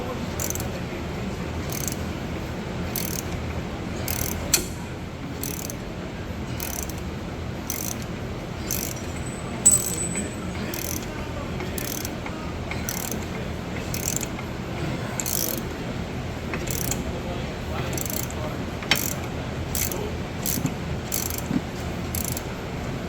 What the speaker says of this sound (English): We're going to tighten it until it comes out.